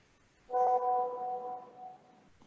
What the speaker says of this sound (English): I'm still hearing those foghorn noises.